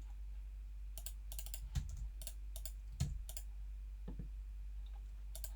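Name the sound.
typing a one-time password on a computer keyboard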